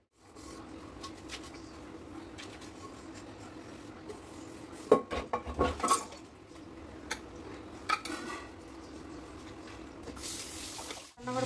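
Dishes and cutlery are washed and put away in a home kitchen, with soft rubbing and a few close clinks and clatters. The clatter is loudest in the middle, over a faint steady background hum.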